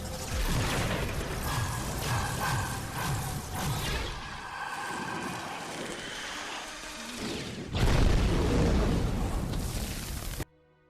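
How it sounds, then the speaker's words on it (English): Animated energy blast destroying a giant Brain in a ragdoll battle against an AI, a loud roaring rumble and crash that eases into a lower swell, then surges again before cutting off abruptly. "this released an energy blast that destroyed the Brain"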